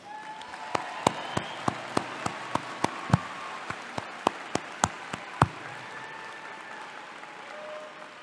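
Sparse, evenly spaced claps ring out at the 2025 Mott Community College commencement, about a dozen and a half sharp hand claps in a steady slow rhythm that stop partway through, leaving a quiet hall.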